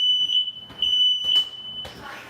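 A kitchen smoke alarm beeps in a steady high-pitched tone, broken by two brief pauses and then cut off near the end by a burst of hissy noise. It is loud and close, with no voices.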